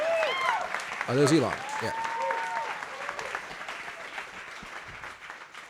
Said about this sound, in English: Okay, I hear clapping.